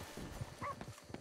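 A dog in Red Dead Redemption 2 gives a few quick faint barks and yips amid quiet game ambience, brief and distant-sounding.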